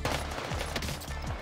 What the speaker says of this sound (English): I'm just kind of shooting your way